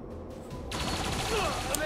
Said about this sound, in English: they're probably gonna fire at them now